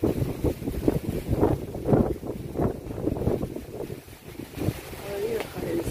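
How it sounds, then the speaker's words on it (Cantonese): Strong wind gusts across the microphone in a small courtyard with an open view, a continuous low rumbling buffet with surging pulses, someone talking over it. "好大風"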